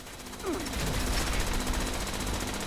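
Turret gunfire in the video game Fallout 76, a steady stream of rapid automatic shots running continuously under the game's background noise.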